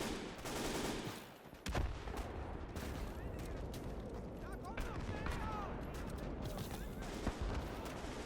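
MG34 machine guns and bolt-action K98 rifles fire in a Gates of Hell battle as German infantry advance, with overlapping bursts and sharp shots near and far amid constant combat noise and a voice speaking over it.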